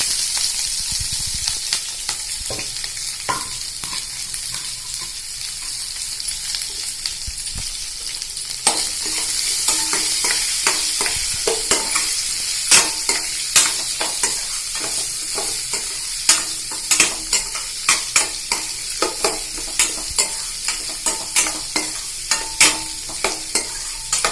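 Onions and green chillies frying in a pan, a loud continuous sizzle with frequent scraping and clinking of a spatula stirring, growing more rhythmic in the second half, close up with no voices.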